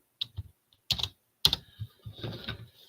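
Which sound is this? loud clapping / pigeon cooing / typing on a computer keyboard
typing on a computer keyboard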